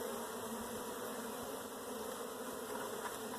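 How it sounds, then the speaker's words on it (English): Honey bees swarm and buzz around an open hive frame lifted during a spring mite check, a dense, steady drone that stays close and even throughout with no voices. "We'll replace this frame and let those bees fly away"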